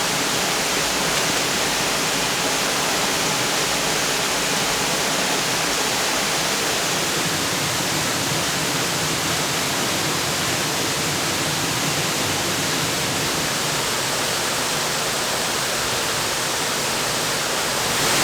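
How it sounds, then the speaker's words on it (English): Steady, dense rushing roar of a nearby waterfall, constant and broadband throughout, with no voices. "Sorry about the background noise from the waterfall."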